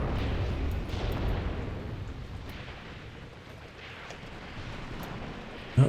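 A tank gun fires in Graviteam Tactics: Predators in the Mist 2, heard as distant, fairly faint booming rumbles with a sharper bang near the end.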